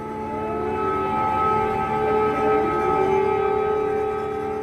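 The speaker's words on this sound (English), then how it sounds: "What you can hear are air raid sirens in Ukraine from the day Russia launched its full-scale war more than 3 years ago." Air raid sirens wail across Ukraine on the day of Russia's full-scale invasion, several sustained tones overlapping at a distance, rising and falling slowly with no voices.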